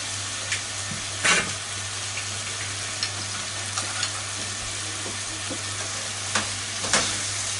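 Shredded carrots stir-fry in a pan for Japanese ninjin shiri shiri, giving a soft, steady sizzle with a low hum beneath and occasional scrapes and taps as the food is stirred.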